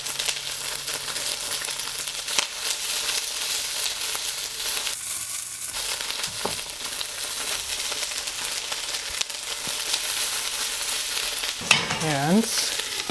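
Garlic chives stir-fried with bean sprouts and tofu sizzle steadily in a hot pan, with occasional scraping stirs and a brief clatter, close and unbroken, no voices.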